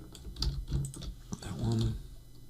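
A computer keyboard clicks through a quick burst of Blender shortcut keystrokes, several close, crisp taps in a short, uneven run.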